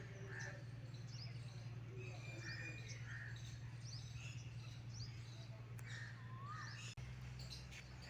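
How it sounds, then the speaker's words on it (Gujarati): Many birds chirp and call in the early morning or evening at a riverside Mahadev temple on the Narmada where it meets the sea, scattered tweets over a steady low hum and background murmur. "વહેલી સવાર અને સાંજનો પંખીઓનો કલબલાટ ખૂબ જ શાંતિપ્રિય હોય છે"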